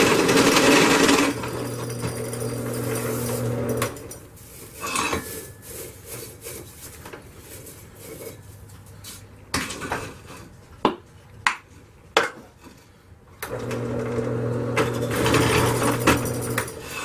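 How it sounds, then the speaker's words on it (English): A bone blade is drilled for axle holes: a steady, whirring run at the start and another at the end, with scraping, rubbing and a few sharp knocks in the quieter stretch between. "So I got the holes drilled for the axle, I guess I'd call it, for the axle to go through the blade"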